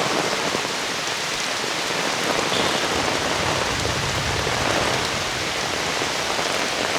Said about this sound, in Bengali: দেখুন এত পরিমাণে ভারী বৃষ্টি।